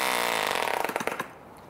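A 1945 Rocket Victor 46 spark ignition model engine fires in a rapid burst of pops that speeds up, then cuts out abruptly, leaving near quiet.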